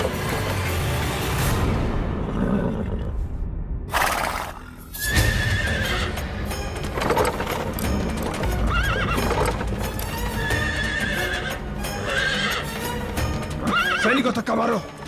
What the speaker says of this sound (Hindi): रथ स्वयं ही रुक गया है। घोड़ा आगे ही नहीं बढ़ रहा है।